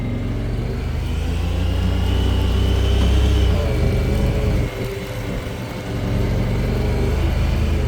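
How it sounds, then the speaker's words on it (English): A 2022 Honda Pioneer 1000 side-by-side drives in locked two-wheel drive with a steady close engine drone and whir. It dips briefly during a sharp turn and then picks back up, with no talking. "So two-wheel drive just locked, and then I make a sharp turn."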